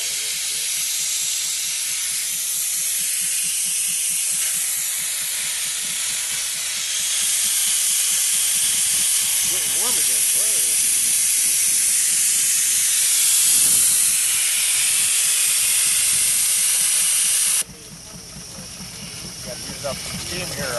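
Steam hisses from a miniature replica of a 1912 George White steam tractor, a broad steady rush running throughout, with talk under the hiss and a sudden drop in level near the end.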